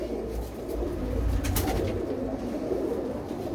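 Pigeons in a loft of long coops coo softly in a low, steady murmur, joined by a brief flutter or rustle near the middle.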